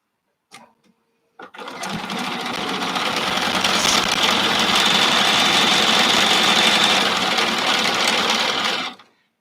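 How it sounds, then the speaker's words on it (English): A sewing machine stitches across a quilt block in one long steady run lasting about seven seconds, close and loud, after a couple of brief clicks as it starts. "So I will just sew over this again."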